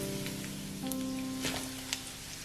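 Dried shrimp and diced Chinese sausages sizzling in an oiled wok, a steady, soft crackling hiss with a few louder pops, heard alone and fairly close.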